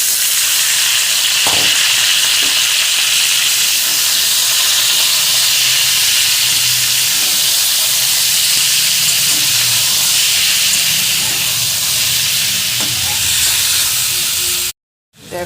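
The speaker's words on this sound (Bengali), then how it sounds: "এবার এতে সয়াবিন দিয়ে দেবো।" Soaked soybean chunks sizzle in mustard oil with fried potato and onion, a steady loud hiss of frying that runs unbroken close to the pan with a few faint clinks of stirring, then cuts off abruptly at the end.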